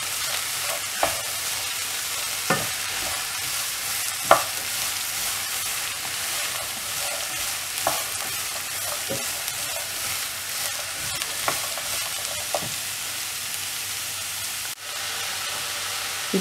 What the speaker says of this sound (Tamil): முள்ளங்கி போட்டுட்டு இதை நல்லா வதக்கி விடணும்.